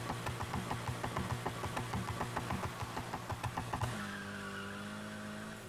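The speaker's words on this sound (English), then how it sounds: "when you shift the gear, how the sound, how the engine sounds" A Mitsubishi Lancer Evolution X engine in the Need for Speed racing game drones steadily with rapid rhythmic pulses, then a gear shift drops it into a lower, smoother tone as it pulls again.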